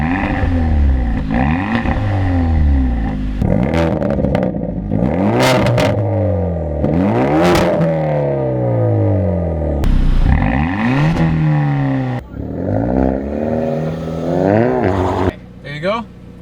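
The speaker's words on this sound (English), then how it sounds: "let's just have a short drag race" A Hyundai Veloster N and an Elantra GT N Line rev hard in a short drag race. Loud engines climb in repeated rising sweeps broken by gear changes, and people talk over the roar.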